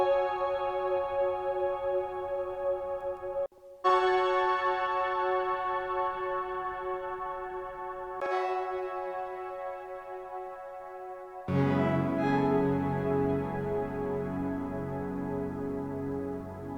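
Lush synth chords held and restruck several times, each washing into long reverb and echoing delay tails that swell and fade.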